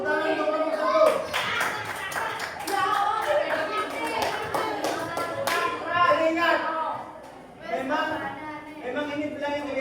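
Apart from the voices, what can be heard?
classroom applause for group 1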